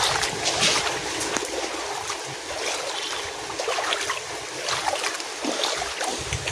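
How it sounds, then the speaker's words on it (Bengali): Steady splashing and swishing of someone wading through water on a flooded road, continuous and close, with no voices. "ভালো লাগছে এরকম জল ঘুটে ঘুটে যেতে"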